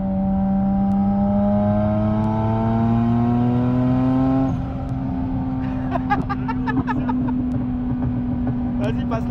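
A turbocharged BMW 325i E36 engine revs steadily and loudly nearby, its drone rising in pitch before settling, followed by a series of rapid popping or fluttering bursts.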